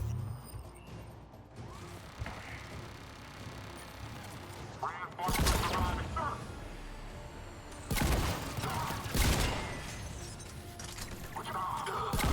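Shotgun fire in Mass Effect 3, a few heavy blasts spaced several seconds apart with crashing impacts, under ongoing talk.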